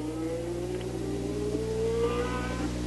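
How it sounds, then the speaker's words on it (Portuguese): Formula 1 car at the 1975 Dutch Grand Prix at Zandvoort, its engine note rising in pitch as it passes, heard fairly distant under steady crowd and broadcast background for about three seconds. "Exatamente, o carro de Mass passou com um barulho."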